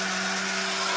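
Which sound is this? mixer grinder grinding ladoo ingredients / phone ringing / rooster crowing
mixer grinder grinding ladoo ingredients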